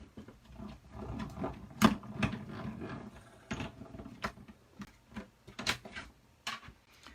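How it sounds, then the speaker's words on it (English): A Stampin' Up! Stampin' Cut & Emboss machine feeds paper between the cut plates, giving a close mechanical whir with irregular clicks and clunks and a few sharp knocks over several seconds, without speech. "Then we're going to take another cut plate, which is the 3 plate, and run that through the machine."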